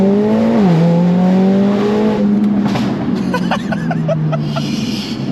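Magno grey Stage 2 Mercedes-AMG A45S with a Cobra downpipe and Milltek race exhaust drives on the road, its engine note climbing through revs and shifting gears, loud and close, with brief crackles and pops near the end.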